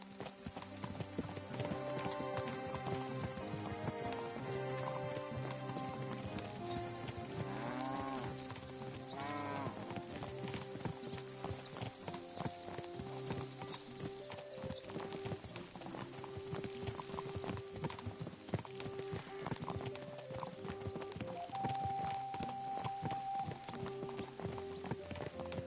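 Horse hooves clip-clop steadily in Kingdom Come Deliverance II, played on PS5 Pro, running under a busy bed of game music and ambience for the whole stretch, with a horse call partway through.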